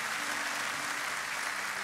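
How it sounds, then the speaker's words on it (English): Congregation clapping hands in church, a steady dense wash of applause from a large crowd, even and continuous throughout. "Would somebody clap your hands and say amen?"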